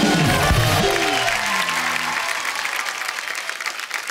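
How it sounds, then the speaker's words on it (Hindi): Studio audience applause at a comedy talk show, loud clapping and crowd noise that starts full under a brief voice and gradually thins out. "चंदन के लिए जोरदार तालियां है मेरा भाई"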